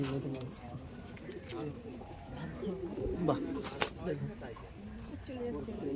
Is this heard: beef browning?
no